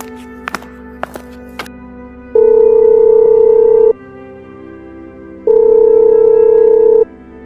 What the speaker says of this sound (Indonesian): Bentar ya, saya telepon dia dulu.